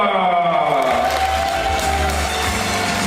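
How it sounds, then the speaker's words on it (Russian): An audience applauds steadily at a beauty pageant final, a dense continuous patter of clapping with a little cheering, while a voice talks over it. "Ваши бурные аплодисменты"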